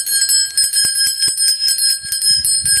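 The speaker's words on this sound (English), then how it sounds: "I feel like we need the bell here." Bell rung during a healing ceremony, a bright high metallic ringing sustained across the clip with repeated rhythmic strikes, close and loud, with no talk over it.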